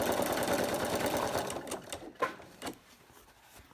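A sewing machine stitches a small beach-hut appliqué picture, running in a quick, steady whir, then slowing into short stop-start bursts with brief pauses between them.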